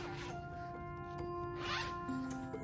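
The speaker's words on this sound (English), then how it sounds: "There's a two-way zipper. So you can zip it down." A two-way zipper on a baby sleep bag slides along its track in a steady, close rasp, with a few short tugs and no talking.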